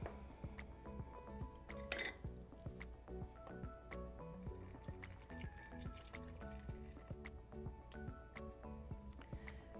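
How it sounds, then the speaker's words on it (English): AzaSol solution trickles and gurgles as it is poured into a small spray bottle, with faint clinks and splashes, quiet and close. "And now I'm gonna pour this back into the spray bottle."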